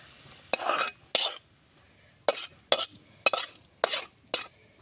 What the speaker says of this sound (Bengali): ঢেলে ফেলার পর এখন তেলের মধ্যে লাড়াচাড়া করবো